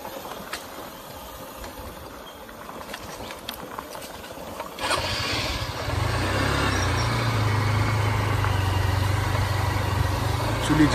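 A car engine on a rough road through dense jungle. It is quiet at first, then rises midway into a steady, close, low rumbling drone that holds to the end, with faint background ambience before it.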